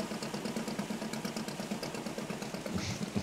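The engine of a fishing boat runs in the game Fishing: Barents Sea, a low, rhythmic chugging that stays steady and faint for the whole stretch, with no voices.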